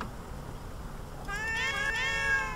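A cat meows in the video game Final Cut: Death on Silver Screen, one drawn-out, fairly quiet call rising over a low background hum partway through.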